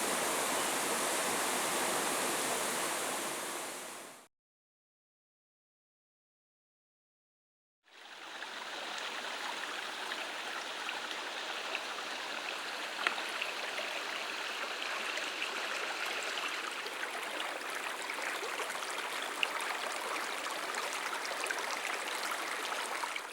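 A waterfall roars steadily at a bass-fishing spot as a broad, even hiss of rushing water, cut off by a few seconds of silence and then continuing unchanged.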